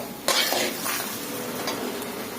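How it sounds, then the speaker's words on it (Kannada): Food frying hard in a pan over high gas, with a steady sizzle and a spoon scraping and stirring against the metal. A sharp clatter opens it, followed by continuous close hissing. "ಗ್ಯಾಸ್ ಜೋರಿಟ್ಟು ಹುರಿಬೇಕು ಸಾಫ್ಟ್ ಆಗಬೇಕು"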